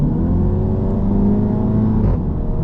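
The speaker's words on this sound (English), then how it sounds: "Oh, DSG farts." An MK3 Audi TT with a DSG gearbox accelerates with a loud, rising exhaust drone, then a brief blat as the gear changes near the end.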